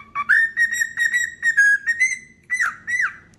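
A pet bird gives a string of clear, high whistled chirps, some sliding up or down, repeating rhythmically and close by with no talk over them.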